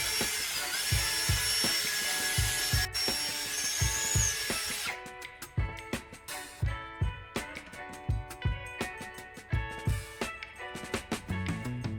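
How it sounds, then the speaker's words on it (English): A power drill bores a hole lengthwise through a round wooden handle, with a steady high whine for several seconds, then a rhythmic series of grinding pulses as the bit cuts through the wood. "Mark the center, then drill a hole straight through from one end to the other"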